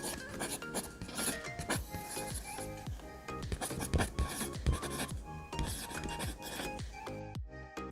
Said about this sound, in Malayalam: ഫസ്റ്റ് നമുക്ക് പിക്ചറിന് പേപ്പറിലേക്ക് വരച്ചു കൊടുക്കാം